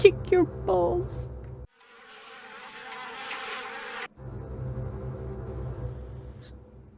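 Steady insect buzzing in the horror game Harvester drones for several seconds, cutting in abruptly after a short spoken line and continuing at moderate loudness under a low hum.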